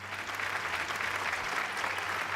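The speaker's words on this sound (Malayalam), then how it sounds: "ഏതായാലും കേരളത്തിലെ നല്ലവരായ പോലീസുകാർക്ക് ഒരു നല്ല കൈയടി." A studio audience claps for Kerala police in a short, even spell of applause heard on its own at a moderate level, with a faint low hum underneath.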